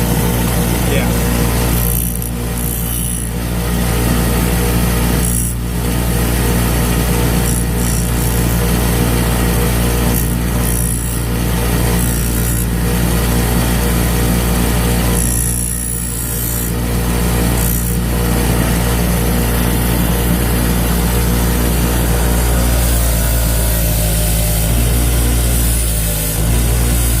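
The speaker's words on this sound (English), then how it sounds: "I'm hitting it with the wire wheel to kind of smooth it out" Wire wheel grinder smoothing and deburring a metal engine rod bearing for a budget GSR engine: a loud, continuous whirring grind that runs throughout, with brief dips and surges as the part is pressed against the wheel.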